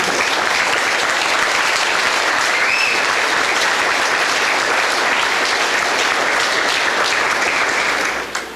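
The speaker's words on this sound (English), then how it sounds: "would you give this bunch of kids a big round of applause" An audience at an FFA banquet applauds a group of agriculture students with loud, continuous clapping close by, holding at full strength before tapering off abruptly at the end.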